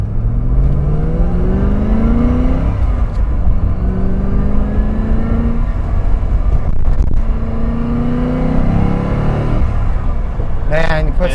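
A 1990s Chevrolet Corvette C4 ZR1 with aftermarket exhaust revs hard several times, a deep throaty exhaust rising and falling in pitch. Voices are faintly audible beneath it.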